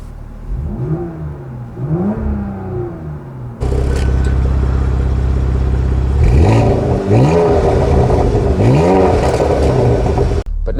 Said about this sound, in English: Put it in sport, which automatically opens up the exhaust valves.